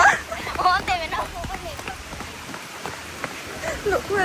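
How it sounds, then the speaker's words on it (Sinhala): Heavy rain pours down steadily as a broad hiss, while people talk loudly over it throughout. "ලොකු වැස්සක් එනවා."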